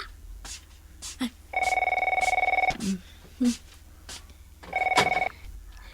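A landline telephone rings twice in a home, each ring a sustained electronic trill lasting about a second, with brief voices and background noise in between.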